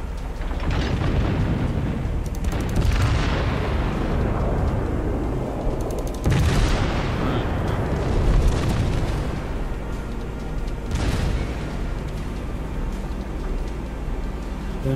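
A ship blowing up in World of Warships, with several heavy booms at intervals over a continuous loud rumble of naval battle noise.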